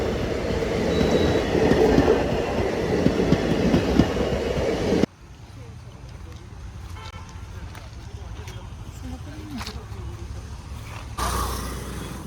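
An express train rumbles loudly along the rails with a steady clatter, then the scene cuts to a quieter, more distant rail rumble.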